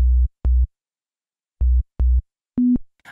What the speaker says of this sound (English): the original bass we have is literally just a sine wave.